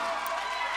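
A live audience claps and cheers at a Bhojpuri stage show, a dense, steady wash of applause that holds evenly throughout the short moment with no gaps.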